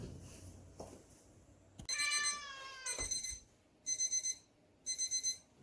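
Electronic alarms going off in a kitchen, sharp high beeping bursts in repeated clusters of rapid chirps, separated by short gaps, with a few thuds and clatters between them.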